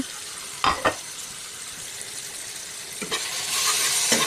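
Dried ribbonfish fries in a pan with a close, constant sizzle and a few sharp stirring clatters. The hiss grows louder toward the end, and no voices are heard.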